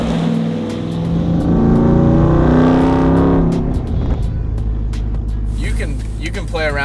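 A Hennessey Mammoth 1000 RAM TRX in sport mode roars under acceleration, its engine note climbing loudly then easing as it cruises on, with people talking inside over the drone.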